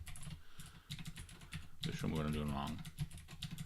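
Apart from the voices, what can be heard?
typing on a computer keyboard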